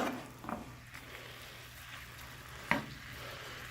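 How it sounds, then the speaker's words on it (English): Ground beef sizzles steadily in a hot pan, a constant crackling hiss with a couple of sharp clinks of a utensil against the pan. "Cook 1 pound of ground hamburger. Hear that sizzle."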